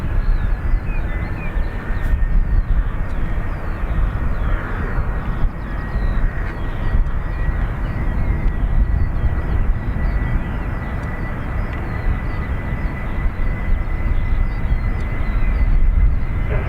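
A Boeing 737 jet takes off from Dublin Airport with a continuous, fairly distant roar of engines that holds steady throughout, with no speech over it.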